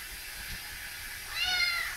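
A cat meows once, fairly close, in a bathtub; the short, rising cry comes near the end after quiet background hiss.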